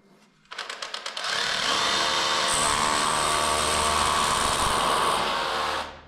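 Drill with an 8 mm bit boring into a masonry wall, starting with a few short stuttering bursts and then building into a steady loud grinding whine for several seconds before stopping, with no voices.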